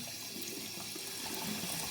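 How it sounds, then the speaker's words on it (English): Running water from a tap turned up high gushes in a steady, loud hiss that stays constant throughout, with no other sounds standing out. "excuse me if you can't hear me over the sound of running water"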